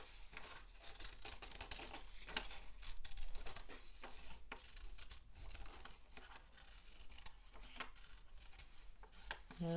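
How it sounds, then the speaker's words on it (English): Scissors cutting paper into a spiral for a kids' snake craft, faint close snipping and rustling in a steady run of small cuts, with quiet background noise. "Cutting, starting with this skinny part and then where it goes wider around."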